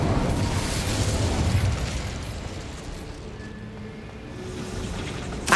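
A fire spell cast in Hogwarts Legacy sets off a loud burst of roaring flame that fades over a couple of seconds into a low crackling rumble, with a sharp pop at the very end.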